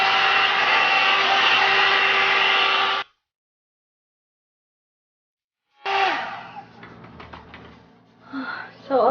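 A 2-in-1 hair dryer volumizer blows with a loud, steady whoosh, then cuts off into silence and starts again with handling noise and brushing.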